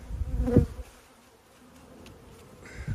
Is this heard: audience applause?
no